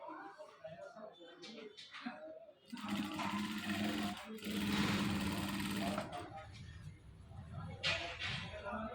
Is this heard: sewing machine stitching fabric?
yes